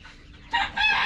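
Brown farm chickens give a brief cluck and crowing call, close and fairly loud, a short burst lasting about a second.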